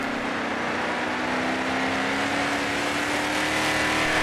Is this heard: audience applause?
no